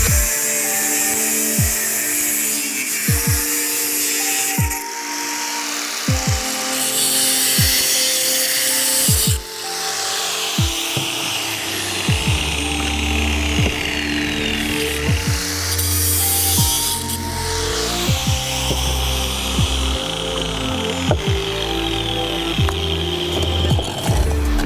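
Power tool cutting metal pieces for a low-cost knifemaking forge, a steady broadband grinding whine running throughout with repeated short bursts and pauses as each cut is made, loud and close with no talking.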